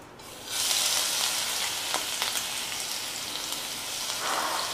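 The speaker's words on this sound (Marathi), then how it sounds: "तेल गरम झालं की यामध्ये आपण हे जे मिरची वाटून घेतलेली आहे ती घालून घ्यायची सगळी." Ground green chili hits hot oil in a kadhai-style wok for a fasting-day grated potato dish. A sharp, bright sizzle bursts in after a short quiet moment, then settles into a steady, close crackle.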